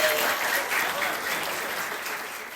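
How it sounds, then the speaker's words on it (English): Schoolchildren at an assembly clap for themselves, a steady, dense burst of applause from the whole room, holding even throughout with a faint crowd murmur underneath. "give yourselves a big round of applause"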